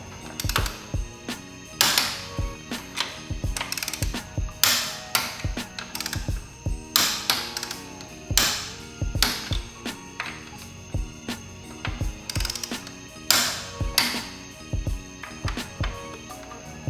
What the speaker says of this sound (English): I'm gonna just go ahead and torque down these 3 main bolts to 25 Newton meters